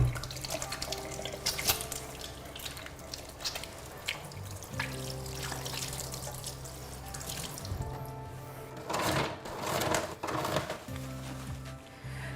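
Running tap water splashes into a sink for several seconds, with shifting splashes and rubbing as hands are washed, and a low hum underneath.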